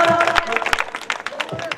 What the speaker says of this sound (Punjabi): ਜ਼ੋਰਦਾਰ ਤਾੜੀ ਮਾਰ ਦਿਓ ਬੱਚਿਆਂ ਵਾਸਤੇ